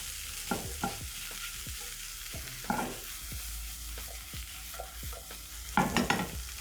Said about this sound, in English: Then I'm going to stir in, and this is smelling amazing.